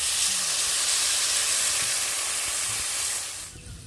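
Water poured onto fried potatoes in a pan for a village-style bitter gourd dish, giving a loud, steady broadband hiss and steaming sizzle that fades away near the end.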